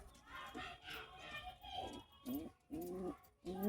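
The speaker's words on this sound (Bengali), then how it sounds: "গিরিবাজ কবুতর।" A pair of Giribaz pigeons, one male and one female, coo in soft, repeated, throaty phrases close by, with voices talking faintly alongside.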